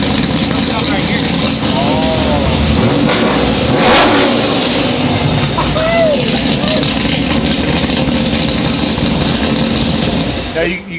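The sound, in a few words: modified car engine revving through exhaust system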